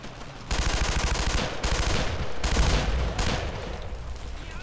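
Sustained squad suppressing gunfire in Brothers in Arms: Road to Hill 30, a loud, dense burst of rapid machine-gun and rifle fire that rolls on in waves for several seconds, with no talking.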